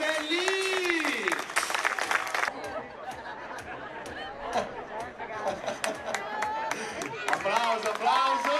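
Outdoor crowd at a trial bike stunt show by the seaside at Marina di Ragusa applauding and cheering after a jump, with an announcer talking loudly over the clapping.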